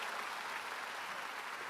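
A church congregation at a Sunday afternoon service claps in a brief, dense, even burst of applause, moderately loud and continuous with no voices over it.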